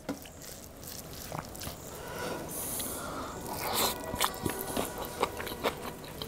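Raw onion being bitten and chewed alongside a mutton and okra dish, giving a steady stream of close crunching and squishing chewing noises with no talking.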